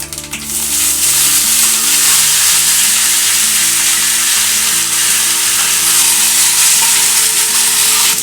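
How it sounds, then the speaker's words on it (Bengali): Boiled taro leaves frying loudly in a pan with grated coconut and green chillies, a steady dense sizzle with stirring scrapes running throughout the whole stretch, close and alone without talk. "এবার আমি দিয়ে দিচ্ছি সেদ্ধ করা কচুর শাক"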